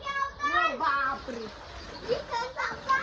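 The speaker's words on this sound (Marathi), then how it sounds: "चिव चिव चिव चिव चिव चिव आवाज येतोय लय" A crowd of small chicks, around two hundred and fifty, huddles under a hen and peeps in quick, high chirps close by, while children's voices mix in among them.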